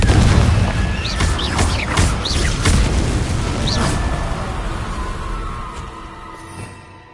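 A Confringo blasting spell in Hogwarts Legacy, a heavy booming explosion with crackling bursts and shrill magical whooshes up front, then a long rumbling tail that fades out over several seconds.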